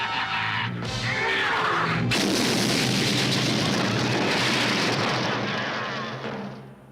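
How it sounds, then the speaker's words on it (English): Big cartoon explosion from the 1984 Transformers animated series, a loud sustained roaring blast with rumbling debris that fills the whole stretch and then fades out at the end. "They all died in this explosion."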